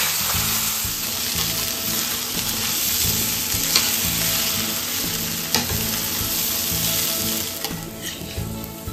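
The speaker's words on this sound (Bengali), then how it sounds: "দেখুন চালটা সুন্দর ভাজা ভাজা হয়ে গেছে" Rice sizzles and crackles steadily as it fries in hot oil for basanti pulao, a loud, close hiss broken by occasional scrapes and knocks of stirring, with no voices.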